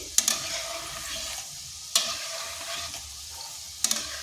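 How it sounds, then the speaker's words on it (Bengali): Flour gulab jamun balls fry in oil with a continuous soft sizzle, while three distinct bursts of stirring scrape against the pan, close and moderately quiet. "এইভাবে নেড়ে চেড়ে এগুলো ভেজে নিতে হবে।"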